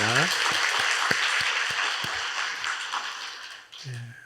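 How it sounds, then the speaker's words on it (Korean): A church congregation applauds during a Sunday service: a broad, steady roar of many hands clapping, with a few distinct claps standing out and a voice briefly heard near the start and the end. "우리 하나님께 영광의 박수 올려드리겠습니다."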